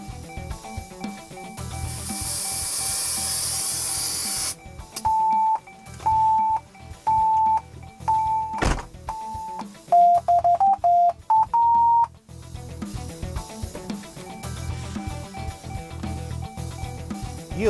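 A car audio amplifier calibration sequence: a long blast of hissing pink noise, then a run of evenly spaced electronic setup beeps, a quick cluster of lower tones and a final higher beep, all near and clean.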